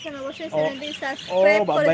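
Broiler hens clucking and squawking continuously on a poultry farm in Cox's Bazar, several birds close by with overlapping calls that rise in intensity.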